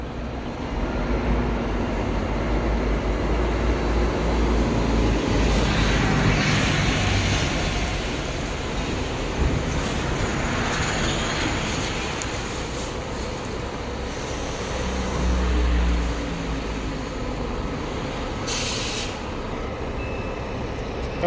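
A Gipsy coach on the São Paulo–Brasília route pulls into the Ribeirão Preto bus terminal, its low diesel rumble and air-brake hiss sounding amid steady station noise and a few beeps, with no talk.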